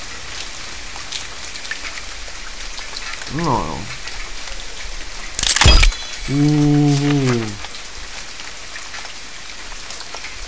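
Steady rain falling in the survival video game The Forest, a continuous soft patter throughout, broken by an animal-like cry, a sharp loud burst and a droning tone, with someone briefly talking.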